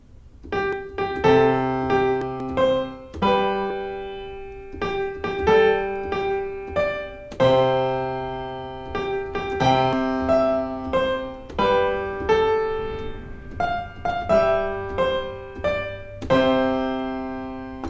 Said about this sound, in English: Altogether though, it will sound like this.